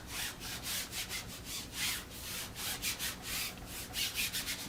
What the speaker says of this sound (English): Put the smooth side down and burnish it with your fingers.